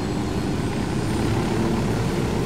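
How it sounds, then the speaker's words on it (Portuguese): A helicopter flies in the video game Ghost Recon Wildlands, making a steady, loud rotor and engine drone that holds constant throughout without talk. "Vamos de helicóptero, galera."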